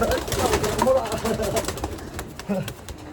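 Racing pigeons at a one-loft race loft coo softly and steadily in the background, mixed with bird rustling and under close talk from people nearby.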